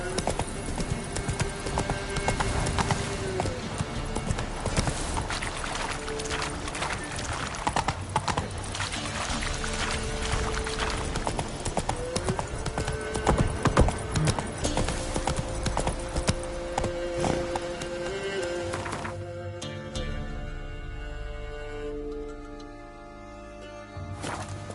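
Roach the horse gallops in Witcher 3, a steady rapid clip-clop of hooves under game music and ambience, continuing up close for most of the stretch before fading.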